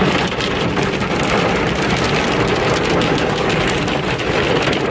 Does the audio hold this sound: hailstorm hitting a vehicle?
yes